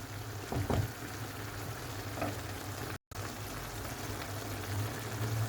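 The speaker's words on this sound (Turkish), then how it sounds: "Şimdi böyle kavurmaya devam edelim." Oyster mushrooms sauté in a pan with black pepper and chili flakes, giving off a steady close sizzle and frying crackle with a few brief stirring scrapes, and no talking.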